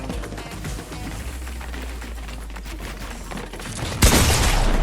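Rapid video-game gunfire rattles in a dense, continuous stream, then a louder burst of shots breaks out near the end.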